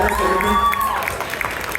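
A crowd at a live celebrity interview event in Chicago claps and cheers in a brief, lively burst, with a high whistle or whoop rising over the applause.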